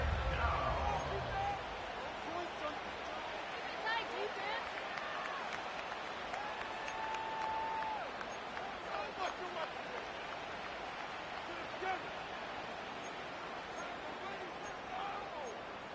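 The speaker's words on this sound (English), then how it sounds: "This crowd turning up the decibel level." A football stadium crowd at a Giants versus Cowboys game roars steadily in a broad, distant wash of noise, with an announcer talking over it.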